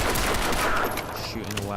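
Brief burst of gunfire from the video game Crysis 2, a dense rattle of shots over a game soundscape, moderately loud and lasting under two seconds.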